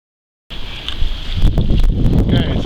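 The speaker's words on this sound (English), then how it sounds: "Very, very windy." Strong wind buffets the microphone with a steady low rumble and gusty bursts, over a faint high hum, continuous from start to end.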